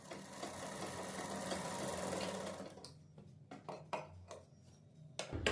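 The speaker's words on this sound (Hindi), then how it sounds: "कंधी में आपने जितना मार्जिन छोड़ा था इतने ही मार्जिन को लेकर सिलाई लगानी है।" A sewing machine stitches a kurta shoulder seam, running in one steady, loud burst before breaking into several short start-stop runs.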